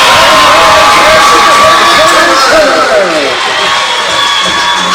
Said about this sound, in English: We're gonna hear a big pop from the crowd right here.